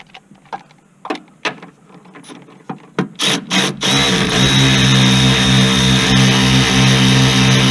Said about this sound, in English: Ratchet.